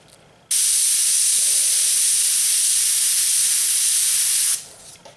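An airbrush hisses steadily as it lays a light mid coat of paint onto a 1977 Camaro panel, a loud continuous spray lasting about four seconds before cutting off, with no talking.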